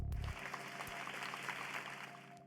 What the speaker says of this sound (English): With applause ringing through the simulation room